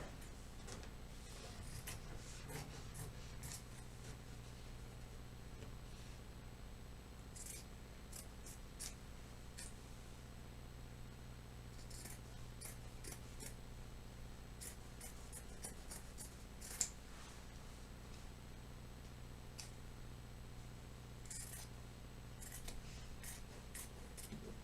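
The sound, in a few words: scissors trimming fabric for a corset bodice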